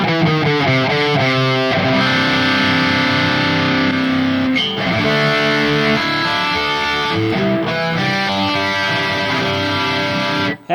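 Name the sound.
electric guitar crunch tone through Neural DSP Gojira X plugin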